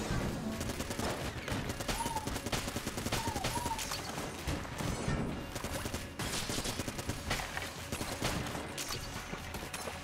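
Continuous rapid gunfire in the video game Enter the Gungeon, dense volleys of shots rattling without pause for several seconds, loud and steady.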